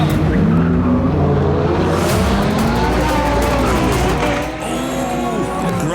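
Race cars launch off the line at the start of a GT Academy race in Australia, a dense, loud roar of several engines revving hard and accelerating together, with tyre noise mixed in.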